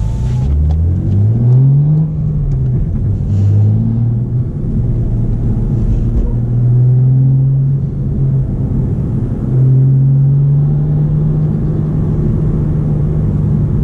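A BMW M2 drives and accelerates, its engine droning steadily from inside the cabin with the pitch climbing during two pulls. No one speaks.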